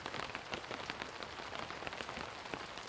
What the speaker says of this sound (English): Even through the rain today,